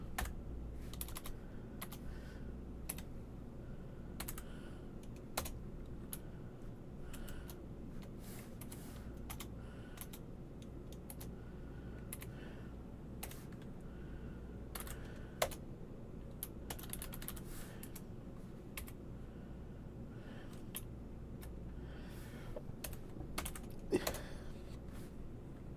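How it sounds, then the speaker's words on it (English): Steady clicking of a computer keyboard with occasional heavier keystrokes such as the enter key, close and continuous for the whole stretch, with no talking over it. "I keep hitting enter instead of just clicking"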